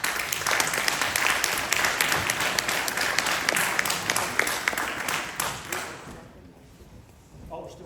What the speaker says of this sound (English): Oh, we're still clapping, so you probably like that.